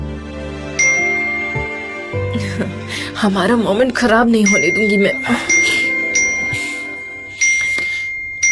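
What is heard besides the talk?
phone message notification ding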